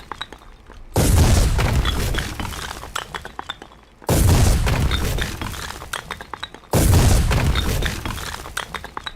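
Three heavy explosions in the war game Foxhole, each a sudden loud boom with shattering debris that slowly decays before the next one hits, evenly spaced and with nothing else heard.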